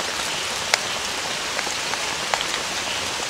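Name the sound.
heavy rain while camping by a river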